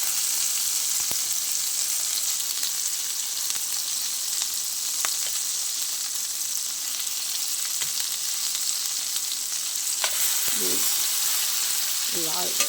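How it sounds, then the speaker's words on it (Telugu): Hot oil sizzles in a pan while masala vankai, a spiced eggplant dish, is being fried, a steady close crackling hiss that runs throughout with a few faint stirring clinks near the end. "ఆయిల్లోకి వేసుకుంటే హీట్ అయిపోయింది ఆయిల్. ఇట్లా వేస్తాను."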